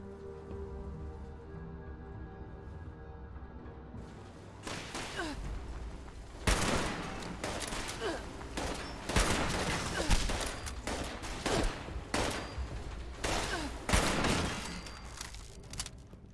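Fallout 76 Wastelanders gunfire comes as rapid, dense volleys of sharp cracks, loud and close, building after a quieter stretch of low ambient hum and continuing in repeated bursts.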